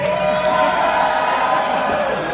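Live theater audience at a Handsome Boy Modeling School show applauding and cheering: a dense, loud continuous wash of crowd noise and clapping with whoops, sustained throughout without a break.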